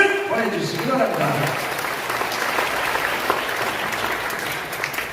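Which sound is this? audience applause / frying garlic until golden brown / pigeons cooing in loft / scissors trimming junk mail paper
audience applause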